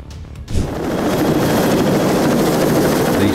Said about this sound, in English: the helicopter descends into its own turbulence and loses lift and falls straight out of the sky